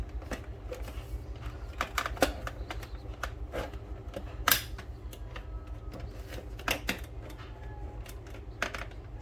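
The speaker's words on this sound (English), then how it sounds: "You just remove the front panel plastic." Plastic front panel being pried off a Ford Focus instrument cluster during dashboard repair, with scattered faint clicks and sharp plastic snaps over a low background hum, close and quiet.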